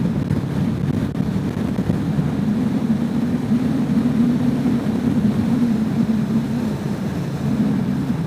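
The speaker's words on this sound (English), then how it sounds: "There's the wind. Now I'm in a headwind." Steady roaring wind buffeting a rider on a 2022 Kawasaki Vulcan S ABS motorcycle heading into a headwind, a loud, constant low rush with a faint engine hum beneath.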